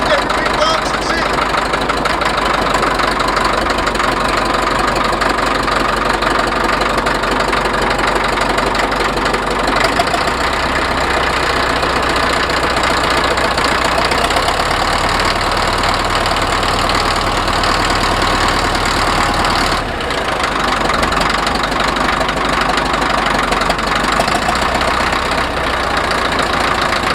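A Drott loading shovel with its engine mounted at the front runs steadily at idle nearby, a continuous loud diesel rumble with a faint knock and one brief dip, while people talk now and then around it.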